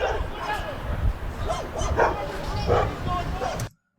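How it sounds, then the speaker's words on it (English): Dogs bark and yip repeatedly during a police K-9 incident, several irregular barks and whimpers mixed with background commotion and voices, moderately distant. "the dogs are barking"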